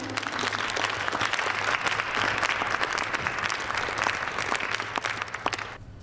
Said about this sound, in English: do we have a round of applause around here?